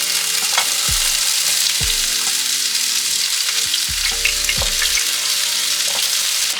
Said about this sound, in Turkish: Köftelerimizi ve patateslerimizi hafif bir şekilde kızartacağız.